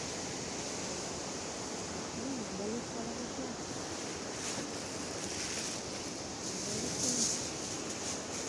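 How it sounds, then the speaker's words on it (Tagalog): Steady, roaring wind from typhoon Opong rushes continuously, buffeting the microphone with a broad hiss, while a voice speaks faintly underneath. "pero malakas pa din yung hangin"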